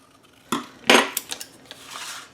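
Scissors snip through paper for a handmade mini album, giving one short cut and then a longer crisp slice followed by a few lighter snips, close and alone.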